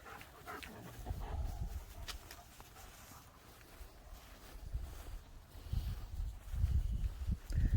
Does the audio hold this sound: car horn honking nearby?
no